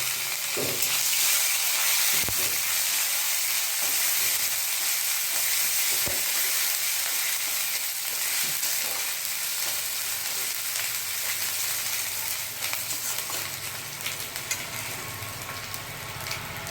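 Grated ginger and bay leaves fry in a hot pan with a dry red chilli, giving a steady close sizzle with a few sharp pops and crackles and no voices.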